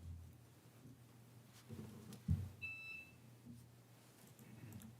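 A short, faint electronic timer beep sounds once over low room hum during a Riverton, Wyoming city council work session, signalling a presenter to move on.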